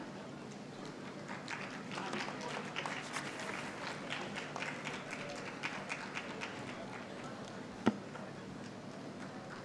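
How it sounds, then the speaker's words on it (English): An audience at an international conference on world religions applauds in a steady patter of many hands clapping at moderate distance, with one sharp knock near the end. "May I request a warm round of applause?"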